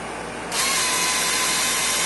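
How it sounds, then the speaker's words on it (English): A power drill whirs steadily as it backs out machine screws from a WE M4 gas blowback airsoft magazine during a repair, loud and close, spinning up after a brief quieter start. "back them out with the drill"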